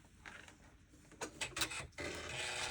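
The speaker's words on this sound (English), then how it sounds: "take all of these to the sewing machine" A sewing machine whirs in short bursts, stopping and starting with quick mechanical stitching runs on quilt pieces, close by and fairly quiet.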